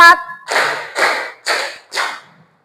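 A class of students claps a counted rhythm pattern: four sharp, loud group claps evenly spaced about half a second apart, each with a short decaying ring, after a brief spoken cue at the start.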